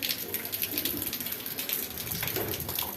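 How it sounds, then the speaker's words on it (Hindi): Water spills over from a full household water tank, a continuous splashing gush with scattered drip-like patter, fairly close and steady throughout. "टैंकी हो गई फुल और पानी निकल रहा था"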